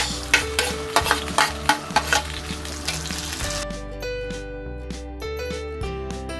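Tomatoes are added to a hot pan with garlic for a Filipino-style tomato pasta sauce. They sizzle loudly under a series of quick rhythmic stirring scrapes, then settle into a steady fry with soft background music.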